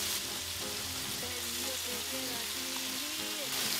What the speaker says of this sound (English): You wanna sear your queso fresco 2 minutes on each side